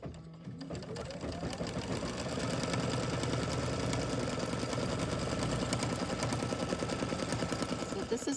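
An embroidery machine stitches yellow thread in a continuous, fast, even mechanical whir and tapping, steady and close throughout with no talking.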